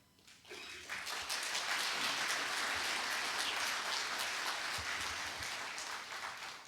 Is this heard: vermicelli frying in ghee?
no